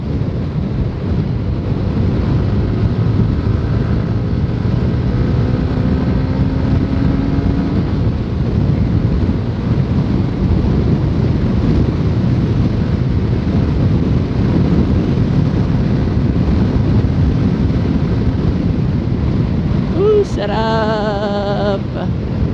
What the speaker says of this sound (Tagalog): Iingat kayo ngayon season kasi ang lakas ng hangin